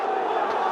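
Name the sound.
cricket stadium crowd getting vocal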